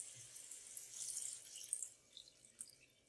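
Water pours from a cup into a pan of potato curry for poori, a soft trickling splash that swells and fades over a few seconds, faint and close.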